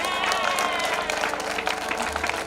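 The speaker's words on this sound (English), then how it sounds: "Give her a round of applause" Audience applause at a women's workshop launch on Valentine's Day, steady dense clapping throughout with crowd noise and some talk under it and a band playing along.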